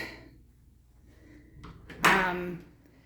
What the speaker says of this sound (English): It has these really kind of fancy double doors.